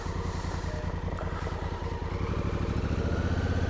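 Honda Africa Twin CRF1000L motorcycle ridden on ice in about 2 degrees Fahrenheit, its engine a close, steady rhythmic thrum that stays loud and even throughout, with no talking.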